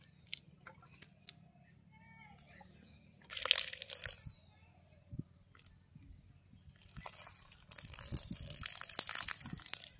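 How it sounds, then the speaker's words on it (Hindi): Water is poured onto a freshly planted sapling in short gushing bursts that splash and soak into the soil. Quieter rustling and handling noises fall between the pours. "तो थोड़ा पानी डाल लेते"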